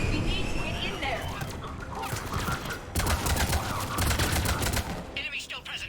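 Gunfire at a checkpoint in the video game Mass Effect 3, with sustained loud bursts of automatic and rapid shots crackling throughout, mixed with voices and in-game chatter.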